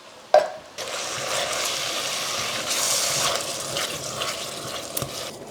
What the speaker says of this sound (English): to the tin I just add 1/4 cup of water